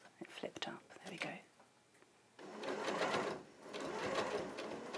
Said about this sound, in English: And then I'm just doing a straight stitch here.